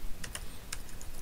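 Keys tapped on a computer keyboard while entering a search tag in photo-editing software, a few quiet, sparse clicks in a short burst with no talking.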